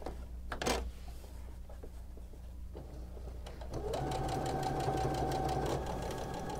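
A sewing machine stitching piping onto the edge of a throw pillow, with a steady close mechanical whir and rapid rhythmic needle clatter that speeds up and holds after a brief pause.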